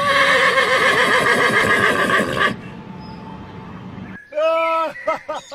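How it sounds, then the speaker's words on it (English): A toy horse gives a loud, buzzy electronic neigh, a pause follows, then a second whinny with trembling, stuttering pitch. "And horse, battery operated horse."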